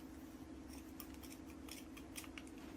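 Scissors trimming paper for decoupage coasters, a series of faint, crisp snips scattered over a low steady background hum, close but quiet.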